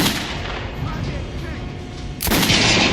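Gunfire crackles in Metro Last Light Redux, a rough continuous clatter of shots at close range followed by a sharper, louder burst near the end.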